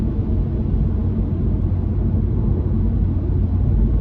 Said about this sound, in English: You can just hear the engine roar.